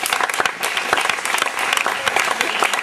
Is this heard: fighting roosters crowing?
no